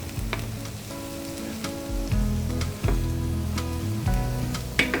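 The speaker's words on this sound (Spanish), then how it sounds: "Echaremos unos 2 o 3 ajos picados también" Minced garlic hisses in a paella pan, a steady sizzle from hot oil that runs under music.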